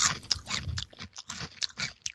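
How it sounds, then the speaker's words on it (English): Bugles corn snacks crunched up close, a quick run of loud brittle bites and chewing over about two seconds with no talking. "When you hear the sound of the bugles, you know Right Side Patriots is on the air."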